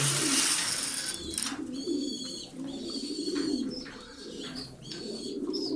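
Pigeons coo steadily close by, with scattered chirps and tweets from other birds layered over a busy, continuous backdrop.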